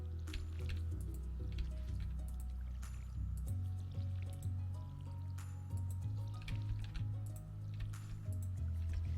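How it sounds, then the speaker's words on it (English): Crops are watered with a watering can in the farming game Stardew Valley: short repeated splashing, squishy pours of water sound over steady looping background music. "Gotta stop watering the same spots twice."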